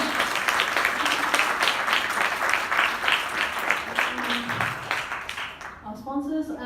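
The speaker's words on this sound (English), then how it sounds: "I think they deserve a round of applause." Audience applause at a leadership summit in Brisbane, a dense crowd clapping that fades out toward the end as a voice begins speaking over it.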